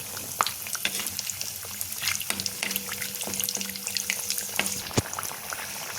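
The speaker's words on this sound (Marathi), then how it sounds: "मी त्याच्यावर तेल सोडते वड्यांवर वरून, म्हणजे वरूनसा ते थोडे तळले जातील." Vada frying in hot oil in a pan, a steady close crackling sizzle with a few sharp pops and light clinks, no voices.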